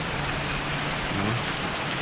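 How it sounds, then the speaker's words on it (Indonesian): Heavy rain falling at night outdoors, a steady, dense hiss that holds even and unbroken throughout. "Ini suasana lagi hujan lebat nih."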